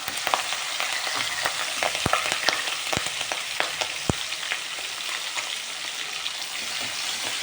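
Curry leaves and green chilies frying in hot oil, a continuous dense crackling sizzle with scattered sharp pops and spatters, close up and steady throughout without any voices.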